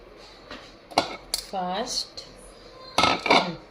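A bowl and dishes are handled while getting ready to mix a salad, with several distinct clinks and clatters of crockery, close and fairly loud, and a voice speaking in between.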